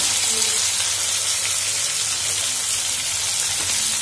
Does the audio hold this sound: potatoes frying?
yes